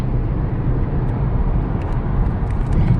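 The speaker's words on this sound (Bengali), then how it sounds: "আমরা যাচ্ছি আমাদের on the way to iftar party Harun drive করছে" A car being driven along a road in Dubai, heard from inside as a steady, continuous low rumble of engine and road noise with no talking.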